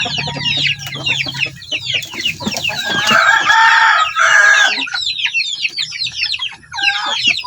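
Heritage breed chickens, including shamo fowl, cluck and call loudly at close range in a coop, with a rooster crowing through the middle and overlapping bird calls throughout.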